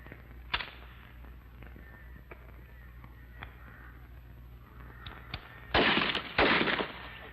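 Sharp, quiet cracks of gunfire in a 1950s film scene, a handful of single shots spaced irregularly over a hushed room tone, ending with two louder, closer blasts.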